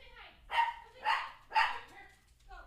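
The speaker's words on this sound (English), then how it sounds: "The dog's barking now." A dog barks three times in quick succession, sharp, evenly spaced barks, with a faint fourth sound beginning at the end over a quiet background.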